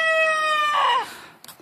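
A rooster crows in the hen pen on a homestead, one loud drawn-out call rising and then falling away, followed by a short clucking sound and a few faint knocks.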